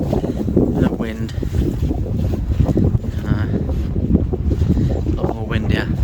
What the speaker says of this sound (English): There's a little bit of chill in this wind because it's from the northwest